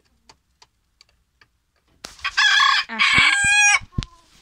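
A rooster, a mille fleur breed, crows loudly and close in a long two-part call after a few faint ticking clicks, and one short word is spoken near the end.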